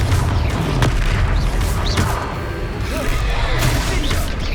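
Confringo, a fiery blast spell in Hogwarts Legacy, goes off amid a dense, continuous battle din of booms and crashes, loud and sustained, with voices calling out over it.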